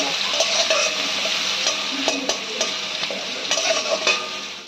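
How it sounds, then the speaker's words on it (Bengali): Chopped onion frying in hot oil in a pan, a steady close sizzle with repeated stirring scrapes and clicks, no voices. "এবার কুচানো পেঁয়াজ আমরা দিয়ে দিচ্ছি"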